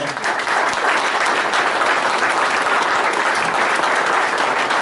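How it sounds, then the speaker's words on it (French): A crowd at a Peugeot Sport rally prize-giving in the Var bursts into loud, dense applause that swells in quickly and stays steady and full to the end. "On peut les applaudir"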